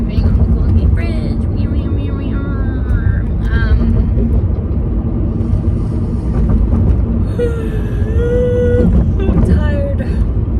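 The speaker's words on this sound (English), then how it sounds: "Driving on the Golden Gate Bridge." A car driving across the Golden Gate Bridge, a loud, constant low road and engine rumble with wind noise filling the whole span, and brief higher whines and squeaks over the top.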